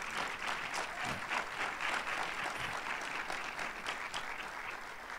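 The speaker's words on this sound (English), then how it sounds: "he deserves your applause and your thanks" An audience at an exhibit unveiling ceremony applauds steadily and warmly, a dense wash of clapping hands that holds at an even level throughout, with no voices.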